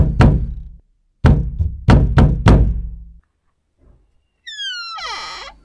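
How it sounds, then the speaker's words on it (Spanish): Hard knocks land on a wooden door, four heavy thuds in an uneven burst, close and loud, followed by a brief pause and then a short squeaky scraping sound. "El señor Spivey golpeó con fuerza la puerta."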